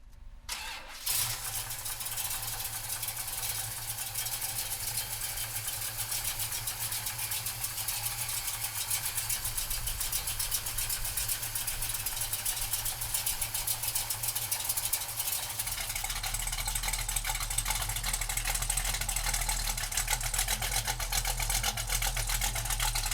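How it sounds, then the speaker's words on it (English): A 1970 Chevrolet Chevelle big block V8 cranks and catches near the start, then settles into a loud, steady idle with a deep rumble that grows heavier toward the end, with no talk. "So come on up and we're going to fire this Chevelle up."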